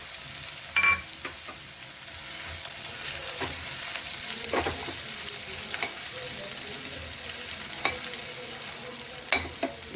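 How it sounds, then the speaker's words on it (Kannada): Onions and green chillies fry in hot oil in a pan, a steady sizzle over ten seconds with scattered sharper crackles and occasional stirring scrapes, close and moderately loud. "ಈಗ ಫಸ್ಟ್ ಈರುಳ್ಳಿ ಹಾಕ್ಕೊಬೇಕು. ನಂತರ ಹಸಿಮೆಣಸಿನಕಾಯಿ,"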